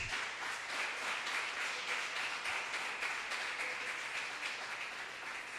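A church congregation applauding during a sermon service, a broad continuous patter of many hands heard somewhat distant and soft, holding steady for several seconds.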